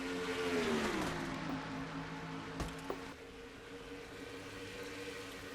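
Race cars on a road course at the Glen in a racing video game, engines droning steadily with a falling pitch sweep early on as a car passes, continuous mid-level roar with a couple of brief clicks.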